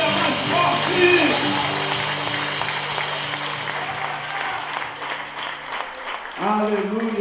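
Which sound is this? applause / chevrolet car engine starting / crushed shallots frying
applause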